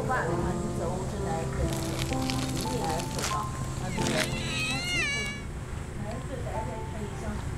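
A cat meows several times in a rural Chinese village, with rising and falling wavering cries over steady background hum and some talking.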